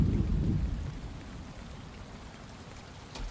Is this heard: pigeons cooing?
no